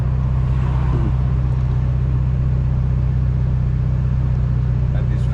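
Ferrari 296 six-cylinder engine idling and running close by, a loud steady low rumble throughout with people chatting over it.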